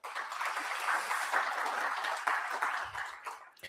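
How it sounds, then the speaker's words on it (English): Dense applause from the audience at a Canada-Africa business conference in Namibia, a steady wash of clapping that fades slightly near the end. "Round of applause for Canada and Namibia."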